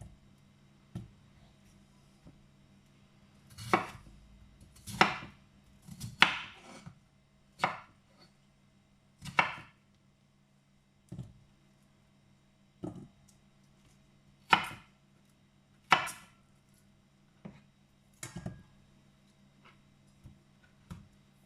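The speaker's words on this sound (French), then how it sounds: "Là, je coupe la patate, la pomme de terre." A knife chops through potato on a board in sharp, separate thuds, spaced irregularly with short pauses between cuts, close and clear over a quiet background.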